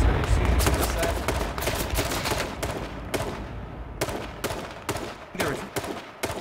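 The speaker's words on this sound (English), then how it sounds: "I'm gonna start shooting from this side" Rapid gunfire in H1Z1 during a five-player battle royale match, fired from beside a jeep: dense, overlapping sharp bursts crackle continuously throughout, loud and close, with scattered short volleys near the end.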